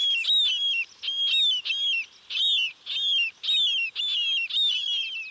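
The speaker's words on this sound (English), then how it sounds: "Marbled murrelets are secretive little birds that spend most of their lives at sea, but they breed in the redwoods." Marbled murrelet, a small seabird that breeds in redwood forest, gives a run of about eight clear, high whistled calls in a steady, rapid series, each a bright downward-slurred note, fairly close and loud against a quiet background.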